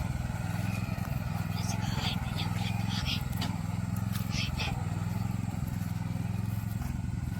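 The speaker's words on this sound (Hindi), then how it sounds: "हमारे जो दोनों ड्राइवर जो है आराम से इस ट्रैक्टर की, मिनी ट्रैक्टर की प्रैक्टिस कर रहे हैं।" A Swaraj mini tractor runs at a steady, close idle-paced drone, with a constant low engine rumble and some light clattering throughout. Voices talk over it.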